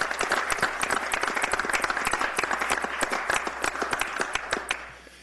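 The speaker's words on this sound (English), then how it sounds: "let's give them a loud appreciation by applause" Audience applause at a town council meeting honoring students, a close, crisp burst of many hands clapping at a brisk steady rhythm, loud and sustained before tapering off at the end.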